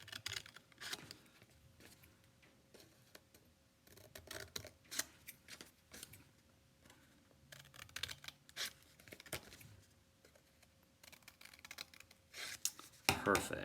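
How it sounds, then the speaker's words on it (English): Scissors snip through folded paper in a series of short, crisp cuts at an uneven pace, fairly close and quiet. "we're going to be grabbing our scissors and cutting up to that dot on every fold"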